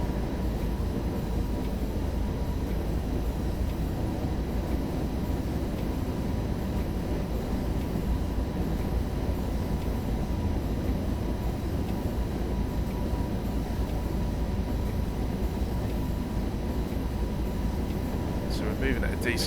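DB BR101 electric locomotive in Train Sim World 2, a loud, steady cab drone and rumble of the train running at speed, unbroken throughout, with a brief faint click near the end.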